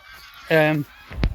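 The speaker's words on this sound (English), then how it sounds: "oh, there is so many geese. Just hundreds of them, man." A goose from a large flock gives a single loud, nasal honk close by, followed by a brief dull thump.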